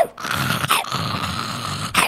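A person imitates a dog with a growling, groaning bark-like voice, one long rough vocal sound held between short breaths, close and fairly loud.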